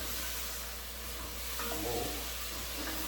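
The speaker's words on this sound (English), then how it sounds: "So you give that a little stir." Beef short ribs sizzle in a pot as tomato paste is stirred in, a constant dense frying hiss with a soft scrape of the spoon partway through, close and with no voices.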